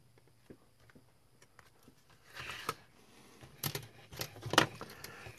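Thin sheet stock for a model HO scale floor being cut by hand, with a few soft scraping and snipping strokes that grow louder near the end, close by and quiet, with no talking.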